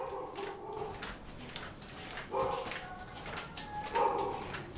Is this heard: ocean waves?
no